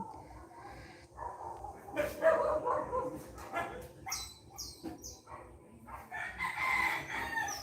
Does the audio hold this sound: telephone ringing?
no